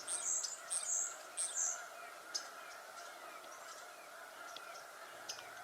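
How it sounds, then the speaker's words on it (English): White-crowned sparrows call in a winter wetland, several bright chirps clustered at the start and scattered thinner notes after, over a steady low hum of the open marsh. "White-crowned sparrows appear each winter over much of the southwestern lowlands of North America."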